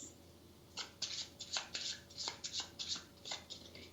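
Tarot cards are shuffled by hand during a live reading, giving a quick series of soft, papery riffles and flicks in an uneven rhythm, close but quiet.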